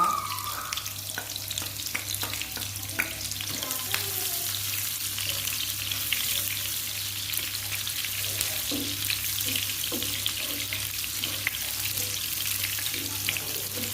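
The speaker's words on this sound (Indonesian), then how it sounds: "yang tadi saya pakai goreng tempe, saya lanjut goreng bawangnya dulu ya" Shallots frying in oil left over from frying tempeh, a steady close sizzle and crackle with occasional stirring clinks, no talking.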